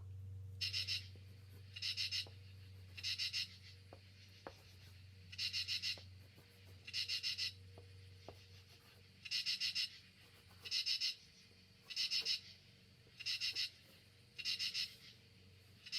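Repeated short scratchy strokes of a pen or pencil on paper, in bursts of about a second with brief pauses between, close and fairly quiet.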